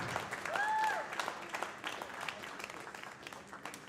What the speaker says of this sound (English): another big round of applause for Ashab Irfan